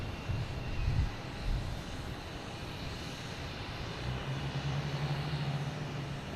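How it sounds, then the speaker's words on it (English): Austrian Airlines airliner taxiing at Boston Logan Airport, a steady low jet engine rumble with broadband roar, fairly distant, plus a brief low thump near the start and a sustained low tone in the second half. "this Austrian Airlines is heading to the taxiway"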